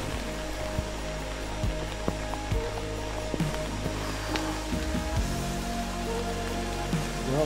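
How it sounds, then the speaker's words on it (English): Steady rain falls through the night, a dense, even hiss with scattered drops tapping on a nearby surface and no voices. "Well, it's raining and we're keeping undercover."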